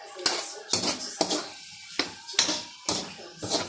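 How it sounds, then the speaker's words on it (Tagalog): Bottle gourd with oyster sauce is stirred in a pan, with a series of sharp clinks and scrapes from the utensil at an uneven rhythm, close and fairly loud, while a voice talks in the background. "Haluin na po natin."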